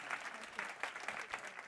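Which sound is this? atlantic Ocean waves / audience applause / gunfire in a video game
audience applause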